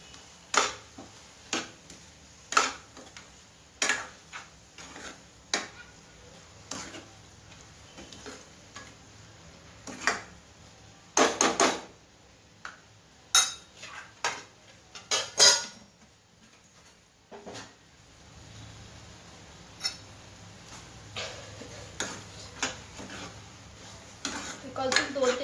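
A spoon stirs mixed vegetable bhogichi bhaji with sesame seeds in a pan, producing sharp intermittent clinks and scrapes at an irregular pace over a quiet background.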